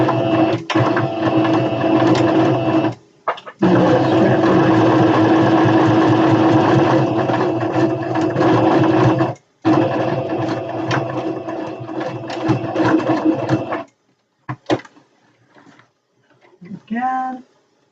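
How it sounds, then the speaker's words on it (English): Sewing machine back-stitching a satin drawstring bag, steady fast whirring runs broken by short pauses, loud and near, ending with a brief squeaky rising tone. "we give it a little back stitch because it's going to need a little bit of extra strength there"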